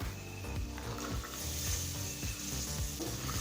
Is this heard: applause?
no